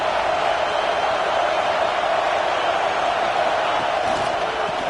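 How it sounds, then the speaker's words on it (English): Football stadium crowd at a Michigan at Notre Dame game, a dense sustained roar of cheering that holds steady and loud throughout, broad and distant-sounding with no clear individual voices. "And the crowd coming to life here, trying to help this defense down in the red zone."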